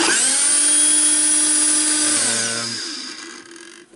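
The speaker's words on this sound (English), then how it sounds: "let's check it for the hammering. Yep, it really hammers." Hammer drill running in hammering mode: a loud, steady high-pitched motor whine that holds for about two seconds, then spins down and fades as the trigger is released.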